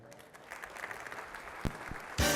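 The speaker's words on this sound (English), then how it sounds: "A big round of applause right now for Sam." Applause for an Eagle Scout at a Good Scout Award luncheon starts low, builds steadily, then swells into loud, full clapping from the crowd at the very end.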